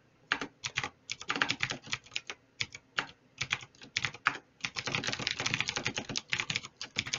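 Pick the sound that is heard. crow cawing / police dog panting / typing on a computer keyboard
typing on a computer keyboard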